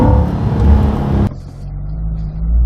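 A car engine pulls hard under acceleration, a loud dense roar with rising tones that drops abruptly after a second or so into a lower steady drone.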